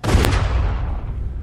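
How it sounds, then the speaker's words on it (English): A single loud gunshot rings out in The Walking Dead video game, a sharp boom with a long rumbling tail that fades slowly. "I told you not to shoot."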